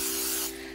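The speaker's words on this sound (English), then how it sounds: "I have 2 small loaf pans here that I'm going to spray with some cooking spray" Cooking spray hisses onto small loaf pans in one steady, loud close burst that tapers off near the end, with a faint hum underneath.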